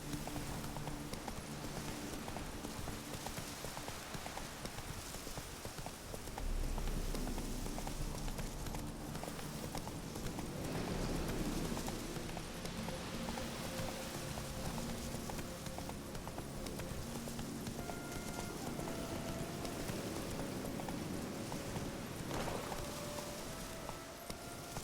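Steady clip-clop of horse hooves while riding in The Witcher 3, a continuous galloping rhythm over game background sound, moderately loud and close throughout.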